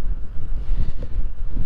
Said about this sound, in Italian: il vento quasi che mi ferma